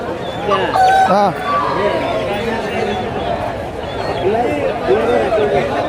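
A country rooster crows amid a busy crowd of chattering voices and background hubbub at a native poultry market, with other fowl sounds mixed into the noisy scene.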